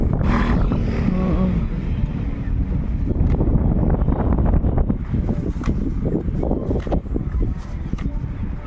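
Strong wind gusts buffet the microphone by the sea, a steady broadband rush lasting throughout with brief voice fragments early on.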